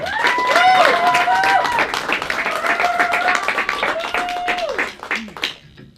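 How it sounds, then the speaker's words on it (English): An audience at a veterans' theatre event claps while high whistles and cheers rise over it, then the applause fades out toward the end. "Round of applause for Brenda Garcia."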